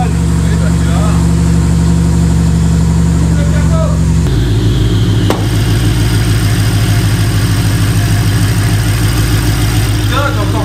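A car engine idles loud and close just after a cold start, a steady low drone that drops in pitch partway through as the high idle settles, with people talking over it.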